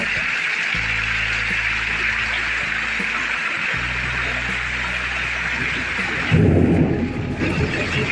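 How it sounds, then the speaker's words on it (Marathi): Steady heavy monsoon rain in a Konkan village hisses throughout as a loud, deep thunderclap rumbles in near the end and rolls on for a couple of seconds. "गडगडतोय बघा एवढं मोठ्याने"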